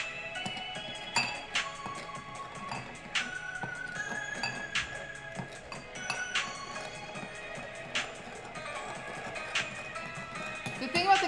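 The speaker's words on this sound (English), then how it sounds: "Just gonna stir this up." Glaze for pumpkin oat cookies stirred in a bowl, with a utensil making repeated light clinks against the bowl at an irregular pace over a steady background.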